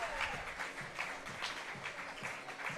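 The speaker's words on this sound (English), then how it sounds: "big cheers from the crowd as the last kid touches home plate" Crowd cheering and applauding at a youth baseball game as the last kid touches home plate, a broad steady roar of many voices and claps with rhythmic surges, heard from a moderate distance.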